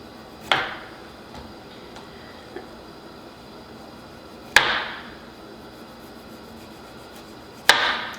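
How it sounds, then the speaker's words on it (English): A knife chops citrus zest on a cutting board, with three sharp, isolated knocks spaced a few seconds apart over a faint room background. "I guess we can just do that to get some of the zest off, and then I can just chop it"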